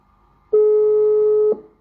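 A single steady telephone tone on a call sounds for about one second, clean and alone against near silence, then cuts off.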